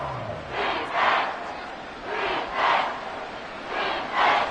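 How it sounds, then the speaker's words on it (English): A video game American football stadium crowd, Giants at Commanders, roars in three rhythmic swells, each rising and falling like a chant, steady and moderately loud with no voices standing out. "A big play here as the crowd noise rises."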